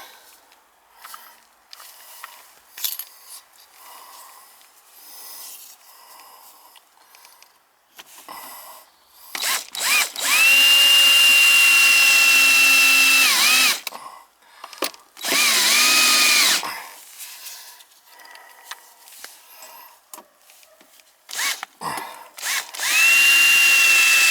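A power drill drives sheetrock screws in several loud whirring bursts, each rising and falling in pitch, with quieter handling clatter between them.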